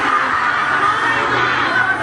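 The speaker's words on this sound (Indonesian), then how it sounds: "wah ada yang teriak getok" A crowd at an Islamic religious talk in a village madrasa shouts out together, a loud, dense wash of mixed voices sustained throughout without a break.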